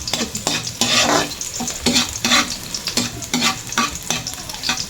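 Chopped garlic sizzles loudly in a hot pan for vegetable lumpia, with rhythmic scraping strokes of a spatula stirring it at close range and no voices.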